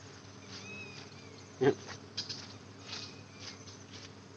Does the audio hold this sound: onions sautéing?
no